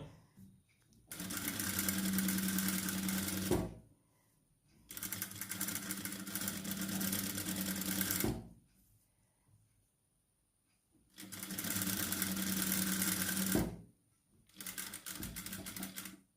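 An electric sewing machine stitches a pocket onto trousers in steady, rapid runs of several seconds each. Four bursts of whirring with short quiet pauses between them are heard close up, and no one speaks.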